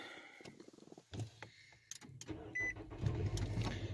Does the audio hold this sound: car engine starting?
yes